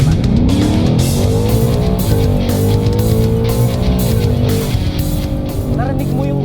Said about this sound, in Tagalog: Narinig mo yung gulong, Sir Glenn?